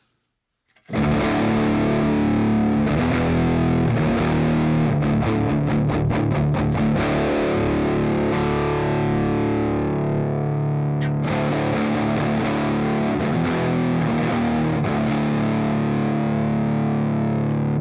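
A heavily distorted electric guitar plays through an Audio Assault Toney CB75 amp simulator dialed in for a famous guitarist's tones. It is loud and sustained, with chugging riffs and a brief stop partway through.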